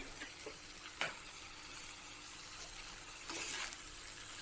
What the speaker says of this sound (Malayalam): ഇനി ഇതിലേക്ക് കട്ട് ചെയ്ത് വെച്ചിട്ടുള്ള വെണ്ടയ്ക്ക കഷ്ണങ്ങൾ ഇട്ട് കൊടുക്കാം.